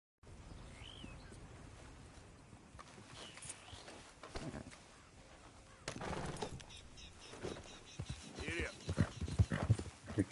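Horse hooves clip-clop on a dirt street in the Red Dead Redemption 2 video game, heading into Rhodes; steady rhythmic steps mix with ambient game sounds and brief voices, growing louder toward the end.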